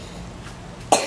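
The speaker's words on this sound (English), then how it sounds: "I'm coughing" One sharp cough bursts out near the end after a quiet stretch of room noise.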